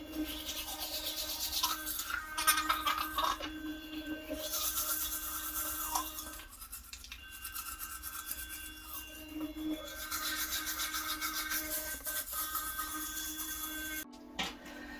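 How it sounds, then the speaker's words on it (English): An electric toothbrush brushes teeth up close, a quiet steady buzzing hum with rubbing and scrubbing textures that shift as it moves, briefly pausing near the end. "It's so much more quiet than a regular electric toothbrush."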